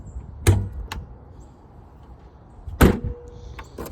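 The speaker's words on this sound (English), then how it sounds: "The trunk also sounds pretty solid as well. Popping it and closing it as well." A Honda car's trunk lid popped open and shut: a sharp latch release, a lighter click, then a solid slam a couple of seconds later, followed by a faint spring-like ring and small clicks.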